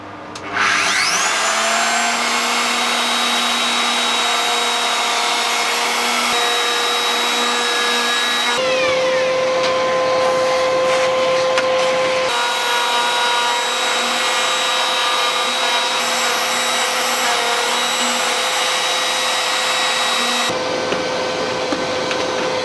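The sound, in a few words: router with cove bit and guide bush cutting wood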